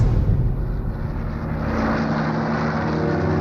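A Hawker Typhoon fighter aircraft in flight, a steady broad engine roar that holds for a few seconds and smooths slightly toward the end, with no voices.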